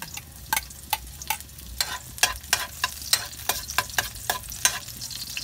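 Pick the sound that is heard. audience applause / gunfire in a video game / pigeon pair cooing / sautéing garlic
sautéing garlic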